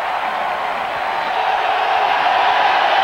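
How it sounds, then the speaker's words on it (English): A packed stadium crowd at a 1991 college football game between Tulane and Alabama roars steadily and loudly for the full stretch, a dense, unbroken wall of cheering with no separate voices standing out. "Crowd wants a shutout."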